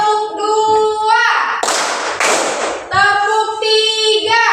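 A school class claps hands together in a counted pattern. A short burst of loud, sharp group claps sits between stretches of children chanting in unison.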